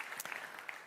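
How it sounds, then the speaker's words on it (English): Brief burst of audience applause for a panel of speakers at a tech conference, a short dense patter of clapping with a few sharper claps standing out. "Let's give them a round of applause."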